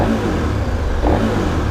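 A KTM 1090 Adventure V-twin motorcycle engine hums steadily at close range with a brief rise in revs partway through, a low throbbing drone without speech.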